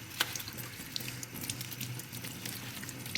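A pineapple plant from a hydroponic system is washed in water, with small splashes and trickles, drips and light handling sounds close by and no talking.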